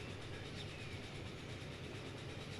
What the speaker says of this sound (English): Should be a train coming in the opposite direction